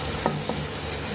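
Pancit guisado being stir-fried in a pan, with two short scraping stirs over a soft, steady background sizzle, close and fairly quiet.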